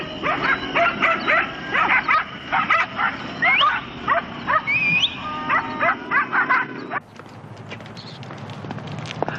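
Dogs bark repeatedly in loud, rapid bursts, with some higher yips mixed in, before the barking stops and a quieter background remains.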